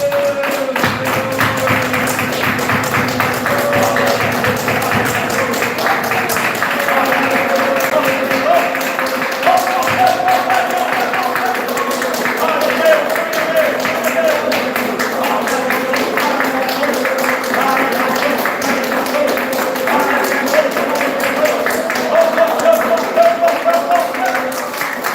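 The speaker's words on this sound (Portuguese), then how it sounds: "vamos pegar a empreitada de bater palmas e dar glória a Deus" A church congregation claps in steady rhythm for a long stretch, the repeated hand claps running under voices that sing or speak throughout.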